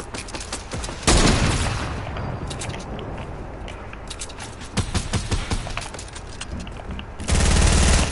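Gunfire in a video game: loud, dense bursts of rapid shots with sharp blasts near the start and end, a steady noisy bed of action between, and no talk.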